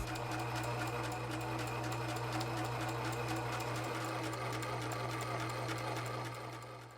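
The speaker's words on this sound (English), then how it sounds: "time to enlist the help of a sewing machine" Sewing machine stitching fabric for a minivan camper conversion, a fast steady mechanical whir with rapid needle ticking, close and continuous, slowing at the very end.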